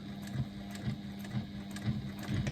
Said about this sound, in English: I'm actually stitching on the inside of the pocket here